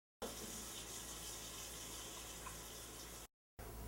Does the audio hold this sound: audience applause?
no